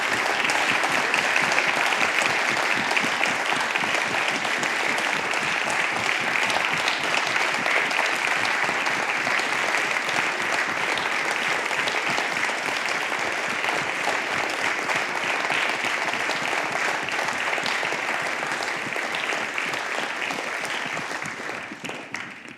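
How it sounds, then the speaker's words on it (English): Sustained audience applause at a community poverty event launch, a dense, even roar of many hands clapping for over twenty seconds before tapering off at the end, with no voices on top. "a massive round of applause."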